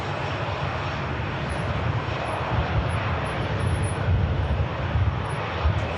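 Airliner jet departing Manchester Airport, a continuous broadband engine roar with a rumbling low end that grows slightly stronger over the few seconds.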